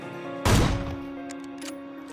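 A single sharp AWM sniper rifle shot in the video game PUBG, loud and abrupt, followed by a fading tail and faint clicks over a steady game hum.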